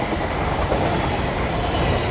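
A Class 800 Azuma train passes through Doncaster station with a steady, loud, broadband rush of wheels and rail noise that holds constant throughout.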